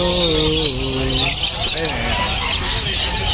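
Lutino pet birds at the Malabon pet market chirp and squawk in a dense, steady chatter, with people talking loudly nearby over the bird noise.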